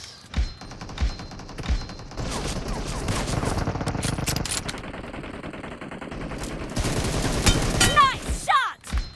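Rapid automatic gunfire from a video game team deathmatch, dense bursts of shots and booms crowding together, with shouted voices breaking in between volleys.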